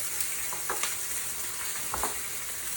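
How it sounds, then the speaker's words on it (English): Chicken sears in a pan on an induction stove, a steady close sizzle with a few soft scraping touches from turning or stirring, moderately quiet and without voices. "You want to make sure you're getting a little bit of a sear on there."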